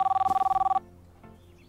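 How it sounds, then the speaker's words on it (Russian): A telephone rings in the restaurant simulator game Kebab Chefs, a rapid electronic trill of evenly pulsed beeps lasting under a second, loud and close, then quiet. "Звонит телефон."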